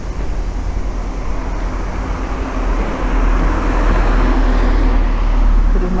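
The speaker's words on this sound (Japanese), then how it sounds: "車が通りました。" A car passes along a narrow street in an old Tokyo neighborhood, its rumbling engine and tire noise swelling steadily loud and close over several seconds, with no one talking.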